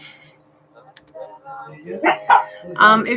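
Several dogs barking and yipping indoors in a house, with bursts growing louder toward the end, mixed with talk in the room.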